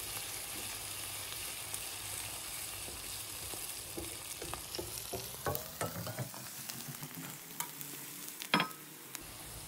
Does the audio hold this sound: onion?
yes